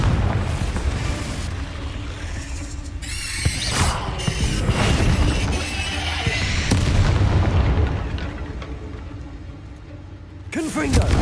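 Repeated Confringo blasting spell explosions in the Hogwarts Legacy video game, heavy booming bursts layered with crackling debris and combat effects, continuous and loud throughout.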